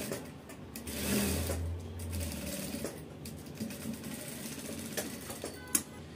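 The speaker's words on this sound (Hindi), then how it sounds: "ये सीधी सिलाई हम इसके ऊपर लगाने वाले हैं।" A sewing machine running a straight line of stitching on a katori blouse: a continuous close mechanical whirr with rapid needle clatter that rises and eases slightly in speed, steady throughout, with no talking.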